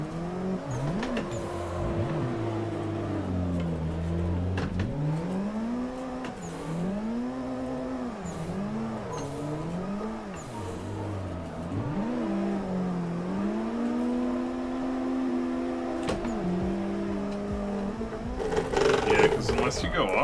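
A turbocharged drift car in a racing sim game, its engine tone rising and falling in repeated rev swells as it slides, steady and prominent throughout, with a burst of extra noise near the end.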